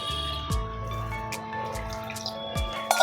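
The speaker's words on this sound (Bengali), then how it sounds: "এইবারে আমি জল দিয়ে দেবো" Water poured from a vessel onto ground prawn shells in a bowl, with a few soft splashing thuds and dribbles over steady background hum, fairly close.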